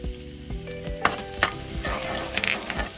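Fresh minced garlic frying in garlic oil in a hot pan, a steady close sizzle with a few sharp clacks of stirring and scraping over about three seconds.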